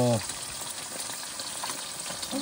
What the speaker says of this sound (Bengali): মাছ ভাজা করতেছি